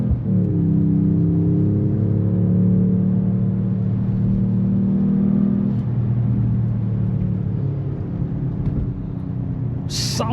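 Engine of a 2025 Mercedes-AMG E 53 Hybrid 4MATIC+ sedan revving, a loud steady rumble that rises in pitch and then settles back, heard close and without talk.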